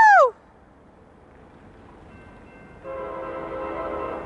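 Union Pacific SD70M locomotive on a Mission Bay local, a short loud horn blast up front, a quiet gap, then the rumble of the passing train building with a tonal drone.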